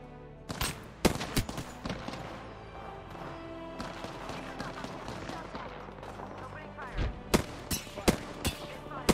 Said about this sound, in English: Oh, we're getting shot from up.